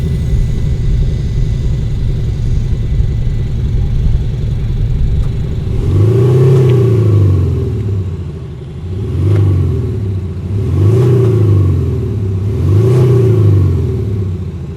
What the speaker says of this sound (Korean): 첫 번째는 액티브 배기 사운드입니다.